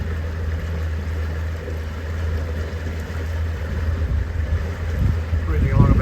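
A boat engine runs steadily while cruising at about 10 km/h and 2400 rpm on the Murray River, a continuous low drone and rumble with wind and water noise that swells slightly toward the end.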